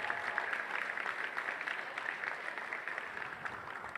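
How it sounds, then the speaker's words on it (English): A crowd applauds a women's college basketball player at a Carson-Newman game, steady dense clapping that holds for the full stretch at a moderate level, with no voices. "Ladies and gentlemen, one more round of applause for Cam"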